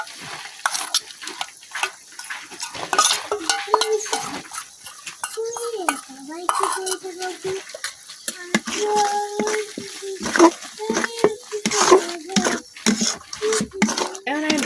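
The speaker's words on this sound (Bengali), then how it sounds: "এখন আমি এই মশলাটা দিয়ে দিতেছি।" Ready-mix masala goes into a chicken roast made without yogurt and is stirred in a pan: a frying sizzle with repeated scraping and clinks of utensil on pot, under a voice talking intermittently.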